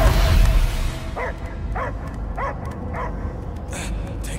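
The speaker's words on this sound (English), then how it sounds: "I hear only barking." A dog barks in short repeated yips at a steady rhythm, moderately loud, set in the Guardians of the Galaxy video game over a low ambient background.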